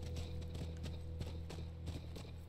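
Rapid, rhythmic clip-clop of horse hooves galloping in the video game The Last of Us, over a steady low engine-like hum, fairly loud and continuous.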